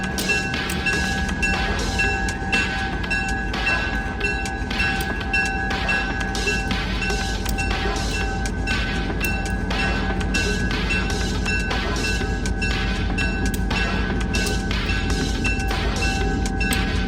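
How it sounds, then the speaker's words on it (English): A diesel locomotive pulling an autumn pumpkin excursion train gets underway from the North Judson station in Indiana, a loud, steady rumble and rolling clatter of rail cars that continues without pause, with no talking. "diesel pumpkin train gets underway as it departs the North Judson station"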